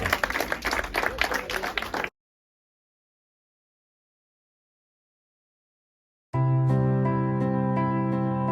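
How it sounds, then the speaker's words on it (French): Audience members at a Christmas talent show clap for about two seconds, moderately loud and brisk, then silence falls before music starts. "Je pense qu'on peut les applaudir"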